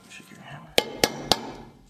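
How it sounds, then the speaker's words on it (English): A hammer strikes a sticker onto a pro scooter during a custom build: three sharp, evenly spaced metallic taps over a low background murmur. "You're gonna hammer the sticker on."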